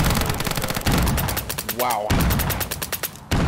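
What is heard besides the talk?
gunfire in the video game Peak.53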